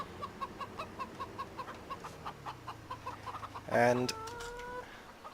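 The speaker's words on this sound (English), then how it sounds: "Let's avoid some chickens" Chickens on a farm in Farming Simulator 17 cluck in a steady rhythmic series of short, moderately close calls, joined near the end by a brief louder rising squawk, with a single spoken word in the clip.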